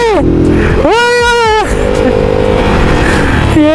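A motorbike engine on a Shimla road trip revs hard twice, its pitch sweeping up and falling back, with people talking and shouting nearby.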